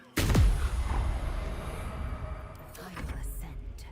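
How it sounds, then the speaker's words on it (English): A hand dropped onto a computer keyboard gives one sudden loud thump near the mic, followed by a lingering rumble and a few faint clicks and rustles. "I was just letting my hand fall on my keyboard"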